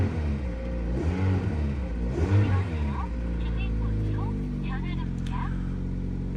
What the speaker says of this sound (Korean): 일단은 시동을 한번 걸어보도록 하겠습니다